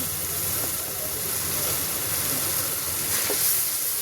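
Spiced food with red chilli and salt being sautéed in a pan, a dense continuous sizzle with scraping stirring throughout, close and loud.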